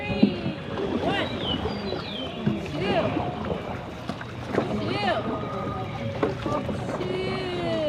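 Paddles stroke the water on a Davy Crockett Explorer canoe ride at Disneyland, with steady splashing under a guide's loud counting and chatter from riders over outdoor background noise.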